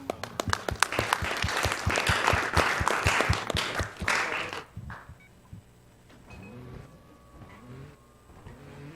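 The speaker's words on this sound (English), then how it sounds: "I'm going to give that a clap." Applause at a Games Done Quick speedrun event for Trials Evolution, a burst of dense clapping from a large audience lasting about four and a half seconds, then cutting off abruptly to quiet room tone.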